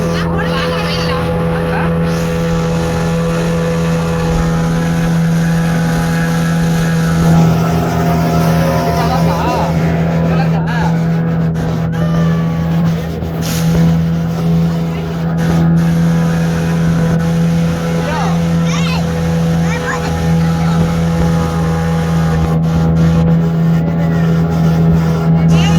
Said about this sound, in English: The speedboat.